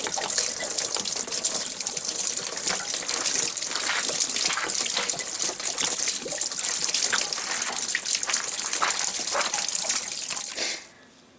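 Water gushing and splashing steadily from the drain of a Suburban SW6DE RV hot water heater tank, loud and continuous, then dropping off abruptly near the end.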